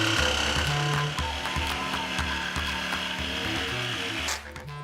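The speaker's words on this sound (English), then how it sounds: "We're going to be using the jigsaw for this, and we've got a special very small blade." A Bosch jigsaw fitted with a very small blade cuts through wood to make a bookend, its motor humming under a rapid, rattling reciprocating buzz that holds steady for several seconds before winding down.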